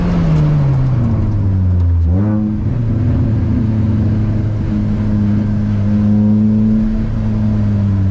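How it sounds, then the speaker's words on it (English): Car on the Sepang Circuit braking and downshifting, a loud close engine drone that dips as revs fall, blips briefly, then settles into a steady lower hum. "Brake and downshift for 3-2."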